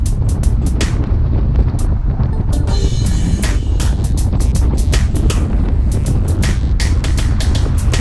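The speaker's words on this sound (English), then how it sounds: "Turn right here and the wind does not let up. It just seems to be everywhere." Wind roars across the microphone during a group road bike ride, a loud, constant rush with scattered sharp buffeting thumps throughout and no voices.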